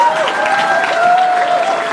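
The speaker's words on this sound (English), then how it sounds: "Let's have a big round of applause for our next candidate and the next MLA for Calgary-Falconridge, Parmeet Singh" A crowd at an NDP campaign event in Calgary-Falconridge applauds a candidate, a continuous loud wash of clapping with cheering voices running through it.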